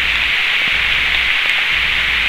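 Heavy rain pours down steadily in the North Georgia wilderness, a dense, loud hiss of water on surfaces with no breaks and no voices.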